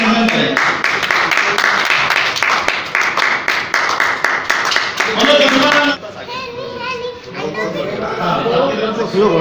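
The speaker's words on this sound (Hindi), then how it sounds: "बहुत बहुत ताली बजाकर स्वागत" Participants at a one-day community council conference in Rajasthan clap in welcome, loud, rapid clapping with cheering voices and chatter that gives way to mixed crowd talk after a few seconds.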